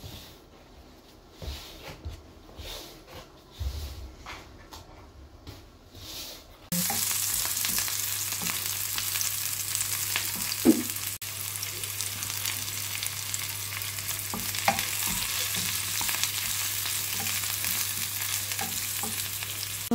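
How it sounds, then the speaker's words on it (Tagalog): Sardines frying in a pan, a loud steady sizzle that starts abruptly after a few seconds of quieter background rustling, with occasional soft clicks and stirring scrapes, no talk. "magluto kami ng sardinas na Jacob."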